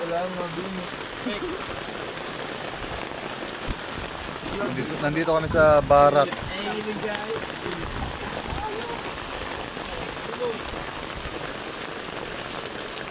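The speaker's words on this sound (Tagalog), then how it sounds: "sobrang lakas nga ng ulan" Steady, heavy rain pours down throughout, a dense hiss under people talking and calling out.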